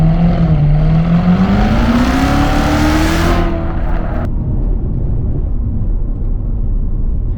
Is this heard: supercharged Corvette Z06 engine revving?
yes